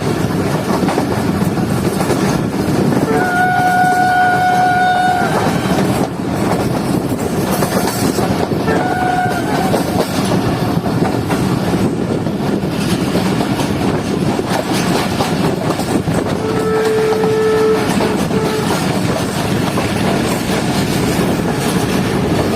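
A passenger train rolls steadily along the tracks with a loud, continuous rumble and rattle, with a few brief squeals or tones rising above it, passing through Pakistan between Jacobabad and Karachi at night.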